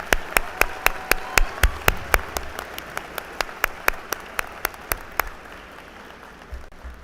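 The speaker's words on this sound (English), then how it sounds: "let's give her one more round of applause" A slow, steady series of single claps rings out evenly at a high school Veterans Day program, fading after several seconds; sounds like one or a few people clapping rather than a crowd.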